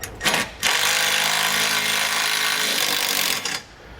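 A power tool drives a 9/16 socket into bracket holes to tap threads while installing a Lippert Ground Control RV leveling system, a loud, close, continuous grinding whir lasting about three seconds between short start and stop bursts.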